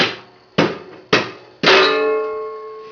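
Three sharp metallic taps from a big hammer, evenly spaced, each ringing briefly, the last leaving a longer resonant clang that slowly fades, while removing a throttle cable.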